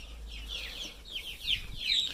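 Hen clucking softly outdoors on grass beside her single chick, a few light, scattered clucks and chirpy calls at low volume with no talking.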